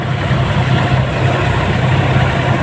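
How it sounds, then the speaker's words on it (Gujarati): A Massey Ferguson 7250 DI tractor, working with a thresher on a farm, runs steadily nearby, a continuous low diesel rumble with an even throb and no breaks. "આજે ટેક્ટર બોતેર પચાસ મેસી ડીઆઈ"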